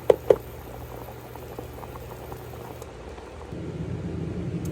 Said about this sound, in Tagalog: Let's just boil it for around 30 seconds pa.